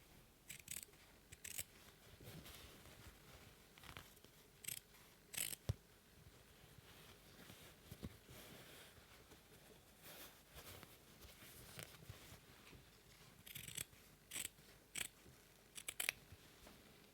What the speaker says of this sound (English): So I'm going to trim them down by half really, and I'm just going to do that now.